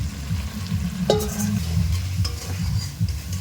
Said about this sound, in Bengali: পটলগুলো দিয়ে মশলার সাথে আরও একটু কষিয়ে নেব